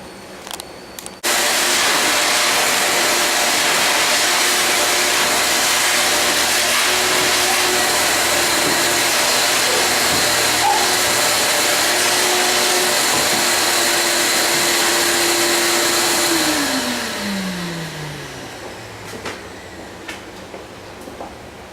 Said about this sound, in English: I'll vacuum most of it off